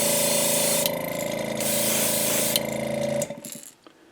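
A paint spray gun hisses steadily while coating a replacement fishing lure with thinned paint, broken by brief pauses and a few mechanical clicks before it cuts off near the end.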